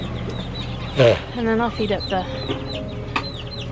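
Hungry backyard chickens cluck and squawk in bursts before feeding, close by and fairly loud, while someone speaks over them.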